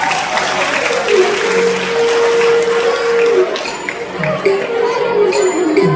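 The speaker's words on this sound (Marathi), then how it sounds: "जोरात टाळ्या वाजवा." Audience applause at a Marathi Shri Ram katha discourse, dense continuous clapping from a large crowd throughout, with a voice rising over it toward the end.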